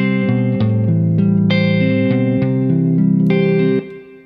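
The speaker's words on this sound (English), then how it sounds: "now we're starting to hear the reverb" Guitar chords ring out with a medium reverb added to the dry track, sustained notes changing every half second or so, loud and close, then fading into a short decaying tail.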